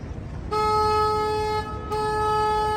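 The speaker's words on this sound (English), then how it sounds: "I actually have to honk the horn here to chase all the sharks away" A tour boat's horn on the San Antonio River blares in two long steady tones separated by a short gap, loud and close, with no voices over it.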